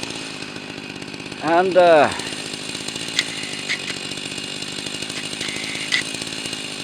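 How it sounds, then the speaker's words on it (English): Jobu Tiger or Husqvarna 44 chainsaw with a sharp chain droning steadily while cutting wood, with a brief revving swell early on, close and continuous, with a voice speaking briefly. "Blessed with a very sharp chain, kind of crazy good chainsaw"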